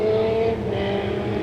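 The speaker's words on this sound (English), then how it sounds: "Tommy, some fast cars now restarting in the rear of the pack." Legend race cars roar around a short oval track at The Bullring at Las Vegas Motor Speedway, a loud, sustained engine drone with a pitch shift as the pack passes, with no voices.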